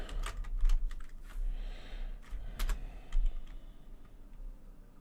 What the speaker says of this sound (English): Sorry if you guys hear that typing.